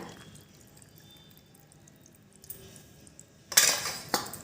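After a quiet stretch with faint kitchen clinks, water splashes briefly into a pan with mustard oil and chillies in a short, bright burst near the end.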